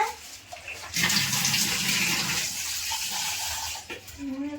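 A village kitchen tap runs water in a steady close splashing stream for several seconds, with a brief voice near the end.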